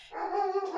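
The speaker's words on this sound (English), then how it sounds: "Excuse the dog." A dog gives a single short, close bark, clear and fairly loud with nothing else around it.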